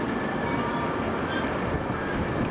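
Passenger train standing at a station platform in Czech Republic, a steady broadband rumble and hiss of idling rail equipment, loud and continuous without talk.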